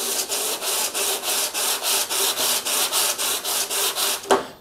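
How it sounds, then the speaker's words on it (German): Steady rhythmic scraping of sandpaper rubbing back and forth on an AMD 7900X CPU heat spreader, about three strokes a second, close and loud, with no talking. "Jetzt schleife ich einfach mal ein bisschen."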